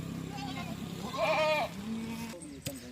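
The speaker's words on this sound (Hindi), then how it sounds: "बहुत प्यारा बकरा है माशाल्लाह" A large, tall goat on a farm gives one loud, wavering bleat close by, with a person talking softly around it.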